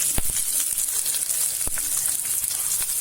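Onions fry in hot oil with a continuous crackling sizzle, broken by a few sharp pops and spatters, close and fairly loud, and no talking.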